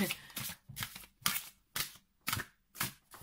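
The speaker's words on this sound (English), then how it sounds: "It's a bit harder to shuffle" Tarot cards are shuffled in quick rhythmic bursts, about seven riffles in a row, close and crisp with short pauses between.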